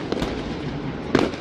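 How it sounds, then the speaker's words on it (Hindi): Fireworks go off over the Golden Temple in Amritsar during the Guru Ram Das Guru Gaddi Diwas celebration. Two sharp, crackling bursts sound a moment apart, fairly loud against a low background. "आतिशबाजी भी की गई।"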